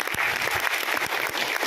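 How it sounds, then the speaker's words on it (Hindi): Brief burst of audience clapping at an on-stage business meeting event, a short, dense patter of hands, fairly close and moderately loud. "तालियां भाई के लिए"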